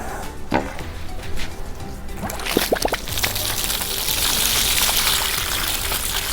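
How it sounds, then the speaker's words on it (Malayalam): A banana leaf is washed under an outdoor water pipe: a few handling knocks and rustles come first, then a steady, close splashing stream of running water takes over. "ഇനി നമുക്ക് ഈ വാഴ ഒന്ന് കഴുകിയെടുക്കണം"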